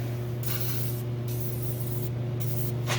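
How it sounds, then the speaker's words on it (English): Penetrating oil sprayed from an aerosol can onto rusted front brake parts of a 2015 Jeep Patriot, three close hissing bursts over a steady low hum. "Spray with penetrating oil and start smashing the shit out of it"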